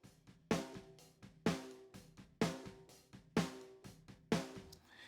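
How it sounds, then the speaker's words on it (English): A live-mix snare drum, run through a transient designer for softer attack and longer sustain, hits five times in a steady pulse about a second apart, each crack ringing out a little longer, with light ghost notes between and no voices. "a transient designer, which is just meant to lengthen the snare itself."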